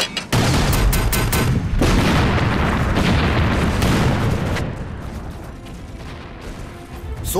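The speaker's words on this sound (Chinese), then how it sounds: "炮手停顿，不间断放炮。" Artillery cannons fire in a war drama set during the anti-Japanese war, heavy booms and blasts rolling continuously and loudly, one after another, then easing slightly toward the end with no talk.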